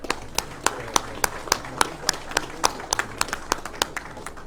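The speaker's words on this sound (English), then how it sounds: "give these gentlemen a round of applause" Scattered hand claps from a small audience, sharp individual claps at an uneven pace, fairly close and moderately loud.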